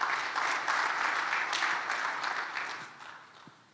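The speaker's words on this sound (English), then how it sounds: "A round of applause again for him" Applause rises from the audience at the Ghana CEO Summit opening, a steady, dense clatter of many hands clapping that holds evenly and then slowly thins out toward the end.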